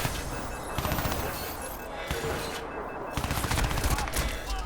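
Rapid automatic gunfire and bursts of shots fill the Crysis 2 video game, nearly continuous and loud, with brief gaps between volleys.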